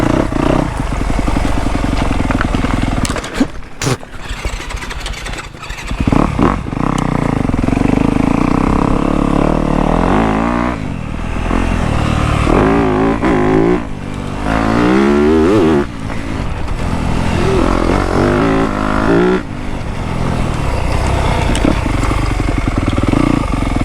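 A dirt bike's engine runs hard throughout a ride on a muddy trail, loud and close, with revs rising and falling and brief gear-change dips; no talking.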